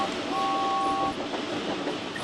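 A goods train rolls past with a steady heavy rumble and rattle of wagons, a short high horn tone sounding early on over the continuous noise.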